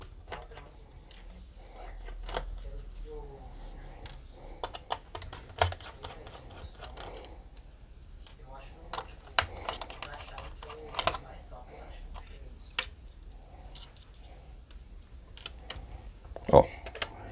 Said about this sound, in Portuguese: Aqui tem os parafusos, Vou retirar os parafusos aqui.